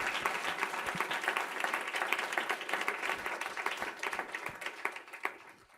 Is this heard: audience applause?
yes